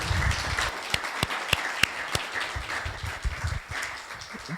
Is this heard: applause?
yes